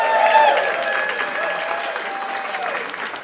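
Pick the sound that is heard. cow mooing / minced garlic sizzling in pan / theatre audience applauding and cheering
theatre audience applauding and cheering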